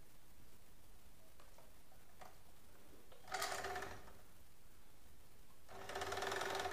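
A sewing machine stitches a kid's frock in two short bursts of fast, even whirring, each about a second or more, separated by quiet pauses, close and moderately loud with no talk.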